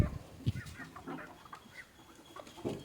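Chickens in a coop giving soft, scattered clucks, several short calls close by over quiet background rustling.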